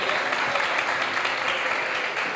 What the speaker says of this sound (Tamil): கைத்தட்டி வரவேற்கலாம்.